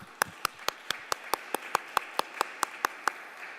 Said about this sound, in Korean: 그 선하심을 우리 모두에게 맛보게 하실 주님께 우리 감사의 박수를 올려드리겠습니다.